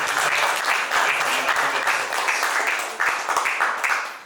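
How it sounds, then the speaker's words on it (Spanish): Audience applause welcoming a panelist at a Peruvian energy forum, loud clapping from a seated crowd, steady for a few seconds before tapering off. "Lo recibimos con fuerte voto de aplausos."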